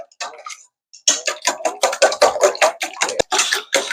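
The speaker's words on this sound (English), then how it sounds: "what I like to do is to whisk my eggs" Eggs whisked briskly in a bowl for a chocolate melting cake, a quick rhythmic series of sharp clinks and taps, close and loud, starting after a brief pause and continuing in steady strokes.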